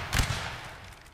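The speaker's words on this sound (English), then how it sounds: "Good volley." A line of soldiers fires a musket volley in a Napoleonic Wars game, a single ragged burst of overlapping distant cracks followed by a fading rumble, brief and moderately loud.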